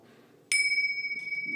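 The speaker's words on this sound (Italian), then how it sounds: "dei campanelli" A small bell, one of several hanging on a handmade instrument, is struck once and rings out as a clear, sustained high tone that wavers slightly as it fades.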